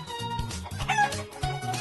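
A chicken clucks in quick repeated bursts nearby, a lively series of short calls over about two seconds with no talk.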